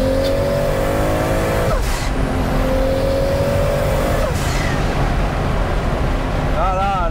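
Toyota Supra engine dropping through the gears, its tone sweeping down and climbing again in a steady loud drone that fills the cabin, with a short blip near the end.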